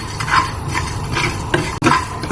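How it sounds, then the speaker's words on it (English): Whole coriander, white pepper and cumin seeds toast and rattle in a pan, giving a steady soft hiss with faint scraping and a few light clinks of utensil on metal. "So we're going to lightly toast our whole spices."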